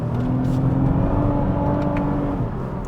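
A Toyota Camry TRD V6 sedan accelerates hard, its engine droning steadily and rising in pitch, heard from inside the cabin with no talk.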